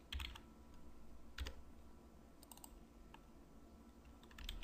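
Quiet computer keyboard typing in short bursts of a few light clicks, spaced apart over a soft background hum, with no voice over it.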